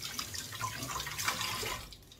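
Tap water runs steadily into a sink for about two seconds to rinse a feeding tube extension, a close, continuous splashing flow with no talking.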